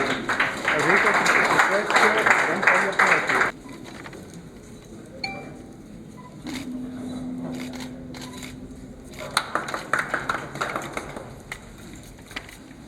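A crowd applauds at a tribal heritage celebration in an arts centre hall, a loud burst of mixed clapping that cuts off after a few seconds, then quieter handling clinks and a short second round of scattered clapping.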